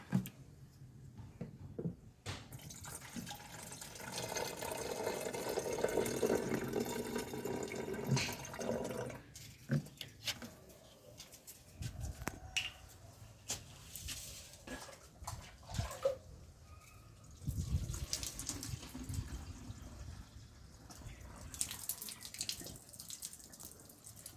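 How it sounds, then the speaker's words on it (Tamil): Coolant pouring into the radiator storage tank of a Toyota Qualis, a steady liquid gush in bursts with gurgling and brief pauses between pours. "இப்போ ஸ்டோரேஜ் டேங்கில் கொஞ்சம் நம்ம ஆட் பண்ணணும்"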